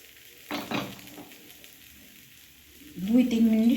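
A few clatters from a tawa griddle come first, then after a quiet pause batter hits the hot pan and a loud sizzle of frying builds up close by.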